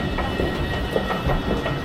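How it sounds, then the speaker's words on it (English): A train in Malmö heading via Rosengård, heard at a station as a steady, dense rumble with faint rhythmic clatter, continuous and fairly close, with no talk. "that's our train"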